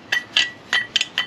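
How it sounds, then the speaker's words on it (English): Loose parts inside a Yamaha Vector snowmobile clutch, with the drive belt pulled off, give five quick, close, bright metallic clinks in an uneven rhythm. "that's what was rattling"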